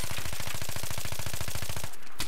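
Gunfire in the Battlefield 3 video game on a conquest map, a steady rapid stream of loud automatic shots in even rhythm that stops abruptly near the end.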